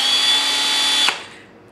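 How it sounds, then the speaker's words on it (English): A DeWalt DC725 cordless drill whirs steadily at full speed for about a second, loud and close with a high motor whine, then cuts off and spins down into quiet. "But here we have the drill itself. Let's see if it actually has a charge in it."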